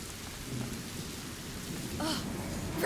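Steady rain pours with rolling thunder in the video game A Plague Tale: Innocence, a continuous wash of rainfall swelling into a louder rumble near the end, with no voices.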